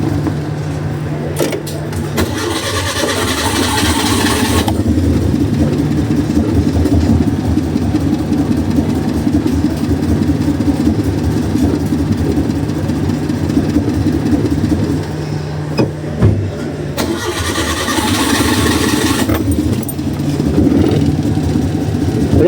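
A car engine with distributor timing off runs close by in a steady rough idle with little power, with two brief louder revving bursts at the start and near the end.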